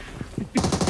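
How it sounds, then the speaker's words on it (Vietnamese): Rapid bursts of automatic gunfire from a castle battle video game break out loudly after a few soft, scattered sounds, continuing as dense repeated shots. "Bên kia bắn nhau."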